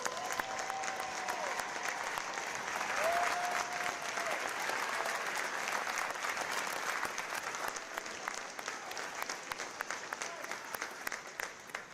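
Sustained applause from a seated audience honoring standing veterans at a U.S. Navy Recruit Training Command boot camp graduation ceremony, steady and broad throughout with a few distant whistles and cheers mixed in.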